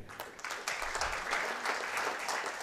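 Applause from an audience at the 75th-year celebration of the ITBA, honouring past presidents, a dense, steady crowd of clapping hands that swells slightly and carries on throughout, with no one speaking over it.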